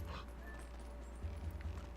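Wolf Link from the Zelda Twilight Princess video game giving short, faint whimpers and yips over a low game hum.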